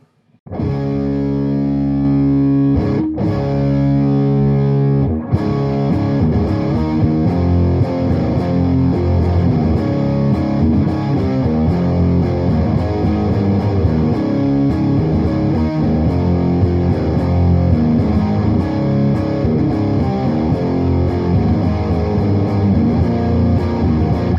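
An electric guitar played through a Joyo Ultimate Drive overdrive pedal rings out loud and distorted, with a short pause early on before sustained gritty chords and notes carry on for the rest.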